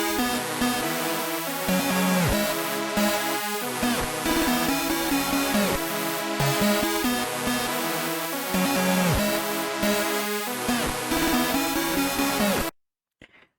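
Three layered synth melodies of a trap beat play together, dense and loud with steady rhythmic notes, ending abruptly in near silence.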